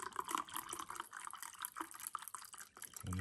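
Apple juice poured over pulled Iberico pork, a close liquid splashing and dripping sound that runs steadily for about three seconds.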